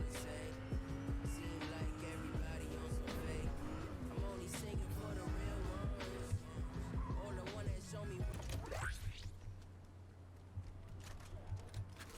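Video game car drives with a steady engine drone and repeated tire squeals and skids for about nine seconds, then the noise drops away to a quieter hum; no one speaks.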